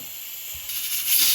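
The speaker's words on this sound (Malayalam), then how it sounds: "നമ്മളിപ്പോൾ കുക്കർ ഒരു അഞ്ച് പ്രാവശ്യം കൂയത്തിട്ട് നമുക്കത് ഓഫ് ചെയ്യാം" Steam hisses steadily from a pressure cooker cooking Kerala chickpea curry, growing louder and higher toward the end as it releases.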